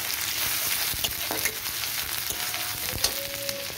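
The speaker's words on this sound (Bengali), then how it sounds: "আমি দিয়ে দিচ্ছি এর মধ্যে রসুন, দিয়ে দিচ্ছি আদা। এই দুটোকে ভালো করে ভেজে নেব" Chopped garlic and ginger fry in a pan in a continuous close sizzle, broken by a few sharp scraping knocks from stirring.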